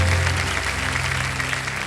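Studio audience applause on a game show set, a dense steady clatter of many hands clapping throughout a short burst, loud and close.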